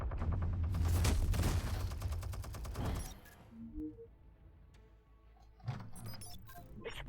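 Turret gunfire in the Batman: The Telltale Series video game rattles in a dense, loud burst for about three seconds, then gives way to quieter scattered game sounds and a few later impacts.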